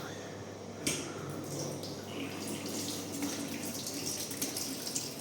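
Water pours steadily from a new, stiffer hose into a container at a building site, a continuous close rushing splash with a brief knock near the start, moderately quiet and without speech.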